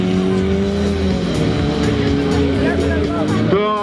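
A white Lada Niva rally car, start number 67, pulls away at a rally event in Zvezdny, Perm Krai. Its engine roars loud and close with rising harmonic revs, and a voice is heard over it.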